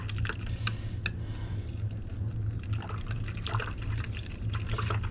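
Yeast-activated water being poured into flour for high-hydration Detroit-style pizza dough; a steady splashing, gurgling pour with small clicks and clatters of the container, close and continuous, without any talking.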